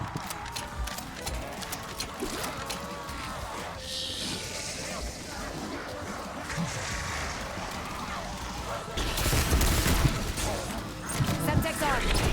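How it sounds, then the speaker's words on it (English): Artillery strike explosions in a zombies video game, a dense clatter of gunfire and blasts that swells into heavier, louder booming toward the end, with game noise throughout. "Artillery strike."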